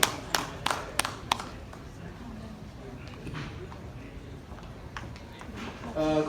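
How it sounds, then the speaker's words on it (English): A ceremony audience at an MOU signing at the Taj Lands End hotel gives scattered claps: a few sharp, fairly near claps at first, then a faint, thin patter under a quiet room, swelling slightly at the end. "Let's have a big round of applause"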